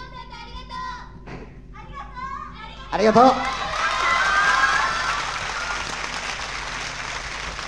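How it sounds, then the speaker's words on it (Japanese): Audience at a concert clapping for an encore, a broad wash of applause and crowd noise that swells after a brief spoken thanks and children's voices, then holds steady and loud. "アンコールの手拍子"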